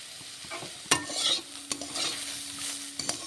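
Taro stalk chorchori with turmeric and green chili being stir-fried in a pan: a steady, close sizzle runs throughout, broken by sharp spatula clanks and scrapes against the metal, with no talking.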